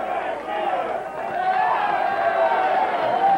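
A 1980s All Star Wrestling crowd roars and cheers in an arena, a dense wash of massed voices swelling and holding loud throughout, with individual shouts rising above it.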